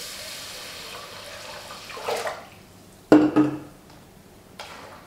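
Half a bowl of rice, half of glutinous rice and a little millet rinsed in clear water in a bowl, with two bursts of sloshing swirling water amid quiet background.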